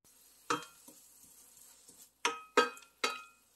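Sliced onion and chicken fry in a pan, with quiet sizzling broken by several sharp clinks and scrapes of a utensil stirring against the metal.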